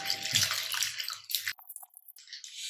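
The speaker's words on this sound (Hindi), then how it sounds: "इसे हमें अच्छे से मैश करते हुए धोना है।" Sago pearls (sabudana) are swished and mashed by hand in a bowl of water, giving close, wet sloshing and trickling that breaks off into short splashes and drips.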